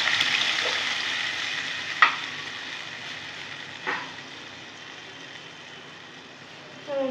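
Tomatoes for a karonda pickle are stirred and mashed in a pan over a soft, steady sizzle, broken by a few sharp scrapes of a spoon against the pan spaced a couple of seconds apart.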